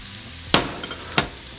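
Onion and minced garlic go into hot oil in a frying pan, giving a low, steady sizzle punctuated by two sharp scraping clacks of a utensil moving them around.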